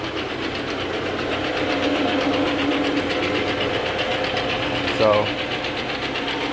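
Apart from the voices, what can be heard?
counter-rotating brush carpet cleaning machine running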